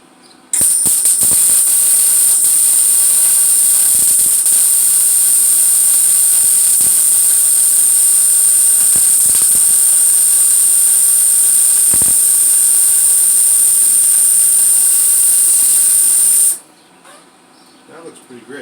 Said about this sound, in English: The gas is on. The welder is on.